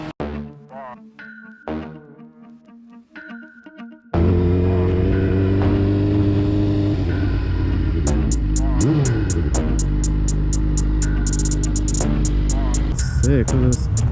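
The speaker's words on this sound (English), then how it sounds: "Just with the Yoshimura pipe on it, and just it being a four-cylinder in general, this thing sings." A 2005 Suzuki GSX-R600 four-cylinder motorcycle with a Yoshimura exhaust starts up loud and close after a quiet stretch with light music. It holds a throaty idle, then revs in repeated sharp rises and falls.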